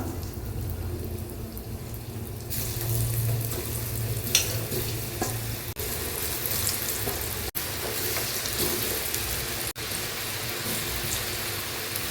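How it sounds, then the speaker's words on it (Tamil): Potatoes coated in masala fry in hot oil in a pan for a chilli potato 65, giving a loud, steady sizzle and crackle with no talking. "சூடாயிடுச்சு. உருளைக்கிழங்கு மசாலாவை இதில் போட்டுக்கலாம்."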